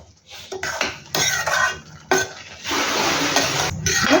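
Coconut paste being stirred into a thick pea curry gravy in a pot, with repeated close scraping strokes of a spoon against the pot in an uneven rhythm and a longer continuous stir toward the end.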